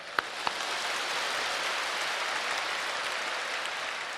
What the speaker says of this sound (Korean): 크게 한번 박수하십시다.